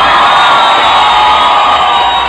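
A large carnival crowd at a loud outdoor party, a dense continuous roar of cheering and shouting that stays at full level from start to finish.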